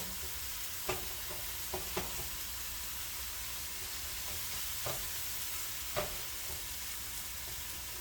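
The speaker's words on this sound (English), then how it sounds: "I'll put it in here with the garlic. And just kind of stir fry that up a little bit." Scallion, tomato, spinach and garlic stir-fried in a pan, a steady broad sizzle with a few sharp scrapes and clacks of the utensil, with no speech.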